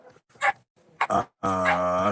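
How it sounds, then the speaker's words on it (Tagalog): Close, loud dog noises: a few short yelps and grunts, then a sustained, strained whine that runs to the end without any talking. "Ingay ni Aso."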